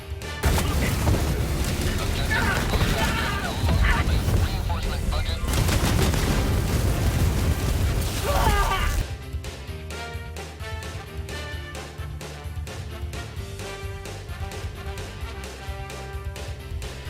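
Combat against a Hulk in the video game Helldivers 2, with dense rapid gunfire and booming blasts for about nine seconds, then a quieter stretch with music.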